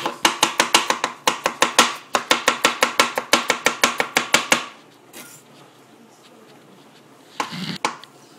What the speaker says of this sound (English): now I'll show you the chop motion